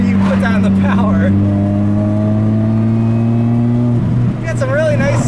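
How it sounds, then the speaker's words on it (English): A supercharged 2005 Chevy Cobalt SS accelerates hard, its engine drone and high supercharger whine climbing steadily and loudly. Voices chatter briefly at the start and again at the end. "Got some really nice supercharger sounds there though, and great sounds out of the back too."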